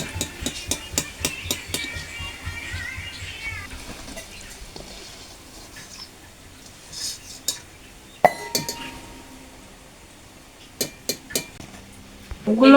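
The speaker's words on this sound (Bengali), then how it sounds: "এগুলো ভাজা হয়ে গেছে, উঠিয়ে নেব।" Fried palm fritters are lifted out of hot oil with a metal utensil, making sharp clinks and taps against the pan in quick bursts at the start and again near the end. The middle stretch is quieter.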